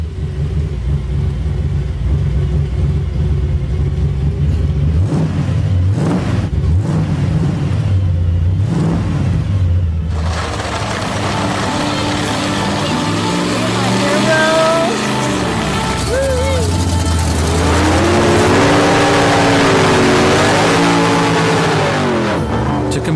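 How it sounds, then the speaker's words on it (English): A souped-up Ford Mustang muscle car being readied for racetrack drag racing rumbles and revs repeatedly, its engine rising and falling in loud swells, with talking over parts of it. "Rose feels the Mustang is just about ready to hit the racetrack."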